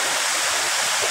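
Dayhag Falls in Bolhon, Cebu, a waterfall pouring steadily with a broad, hissing rush of water that stays constant and close throughout, with no voices over it.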